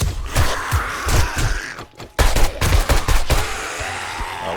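An AK rifle fires in 7 Days to Die, with rapid repeated shots in two bursts separated by a brief pause, loud and close.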